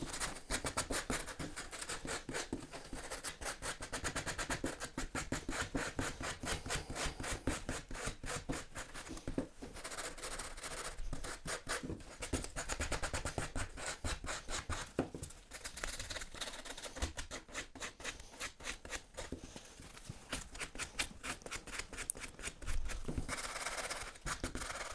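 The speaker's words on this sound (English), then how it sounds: "I'll sand it down just a little bit" A homemade bottomless portafilter for a Delonghi Dedica EC680/EC685 espresso machine is sanded by hand, giving close, steady rasping strokes in a quick, continuous rhythm with no talking.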